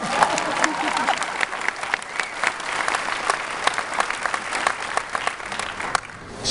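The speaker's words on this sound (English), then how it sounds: "Cheers and applause." Kinfield class of 2012 graduation audience applauds and cheers steadily, a dense, fairly close wash of clapping with scattered shouts throughout.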